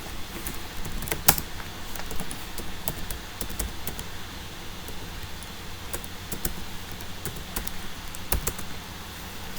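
Computer keyboard typing during Node.js coding, with scattered sharp key clicks over a steady faint background hum and no speech.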